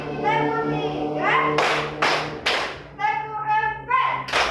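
A class of students in a teacher-training lesson in Bukittinggi, Indonesia claps together in a short rhythmic burst of about three sharp group claps, loud and close, with a teacher's voice speaking before and after.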